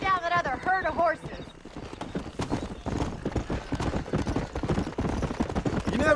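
Horses galloping in Red Dead Redemption, rapid rhythmic hoofbeats clopping steadily and close, with a horse whinny near the start and people talking over the hooves.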